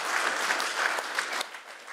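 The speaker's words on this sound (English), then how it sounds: "A very generous audience is clapping every single response from both of you." An audience at a book event claps briefly, a short burst of many hands in a room that thins out and fades within two seconds.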